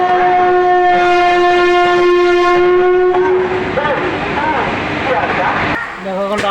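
A train running at night sounds a long, loud two-tone horn blast for about three seconds, then the rumble and clatter of the moving train carries on, with people talking over it.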